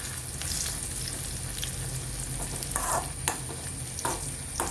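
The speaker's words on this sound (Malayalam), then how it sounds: "ഇതാ നമ്മൾ ഇഞ്ചി വറുത്തോണ്ടിരിക്കുക" Ginger frying in a pan over a medium flame while being stirred, giving a continuous close sizzle broken by a few sharper scrapes and clatters of the stirring utensil, with no talking.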